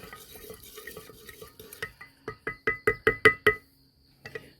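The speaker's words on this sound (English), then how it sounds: "Get that stirred up a little bit. Doesn't take too much to dissolve that sugar." A spoon stirs sugar into liquid to start a sourdough starter, soft swishing at first, then a run of about seven quick, sharp knocks against the container, close and loud, ending with a faint tap.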